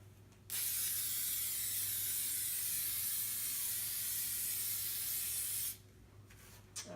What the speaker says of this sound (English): So I just like spraying it on the surface.